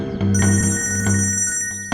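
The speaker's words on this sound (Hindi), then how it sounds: "भाई साहब आपका फोन बज रहा है।" A mobile phone rings nearby with a loud, tonal electronic ringtone that repeats in short pulses, with no talk over it.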